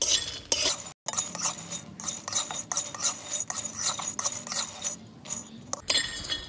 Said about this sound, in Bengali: হালকা আঁচে নাড়াচাড়া করতে করতে দেখুন একদম মুচমুচে হয়ে গেছে।